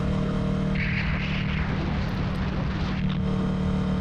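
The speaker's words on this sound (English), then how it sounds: "sorry for the wind, but whenever I turn my head, it just catches." Wind buffets the rider of a 2020 Ninja 650 motorcycle, a loud rushing roar over low engine hum that swells and eases briefly partway through, with no speech.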